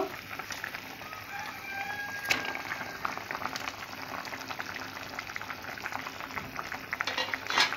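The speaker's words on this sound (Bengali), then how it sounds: "এইভাবে ভালো করে আর কিছুক্ষণের জন্য সেদ্ধ করে নেব।" Potatoes boil in a pui shak curry, a continuous bubbling, hissing simmer with small pops and a few clinks, close and moderately loud, with a rooster faintly crowing in the distance.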